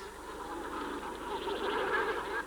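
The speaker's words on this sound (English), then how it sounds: "Boadzulu is recognizable as a cormorant colony from a long way away." A cormorant colony of several thousand birds calls from the island of Boadzulu, making a continuous, moderately distant chorus of harsh honking and croaking.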